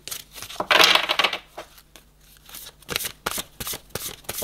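Tarot cards shuffled in a loud riffling burst, then handled and drawn with a string of crisp snaps and slides, close and without talk.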